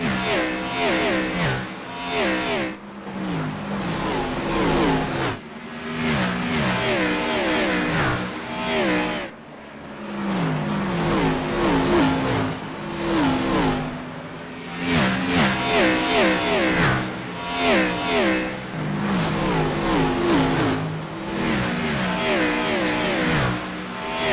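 Continuous revving race car engines from a racing video game at Bristol roar and shift pitch repeatedly, with brief dips between bursts, loud and close throughout with no talking.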